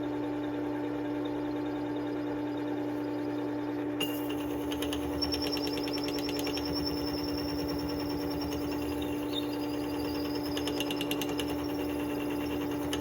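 Work Sharp 3000 sharpener with a sanding disc grinds a knife blade, a steady motor whine with gritty scraping that starts partway through and continues as light rasping contact, with no voices.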